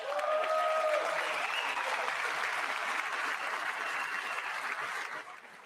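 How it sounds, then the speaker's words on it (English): Applause at a State of the Union watch party, a dense, steady round of clapping from a room of people that holds evenly for several seconds before fading slightly at the end. "I wasn't sure if anybody even on this side was going to applaud for that."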